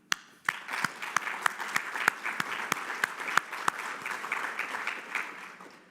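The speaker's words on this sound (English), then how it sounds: "A big round of applause to all of you." Applause from delegates at an annual food banking convention, a steady crowd clapping with sharp individual claps standing out, lasting several seconds at moderate distance with no voices.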